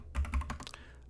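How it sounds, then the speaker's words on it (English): Rapid keystrokes on a computer keyboard, set behind a large Blue Yeti microphone: a quick cluster of close clicks and taps lasting about a second, heard on their own. "Apologize for my slow typing because I have a huge microphone, Blue Yeti, sitting in between me and my keyboard."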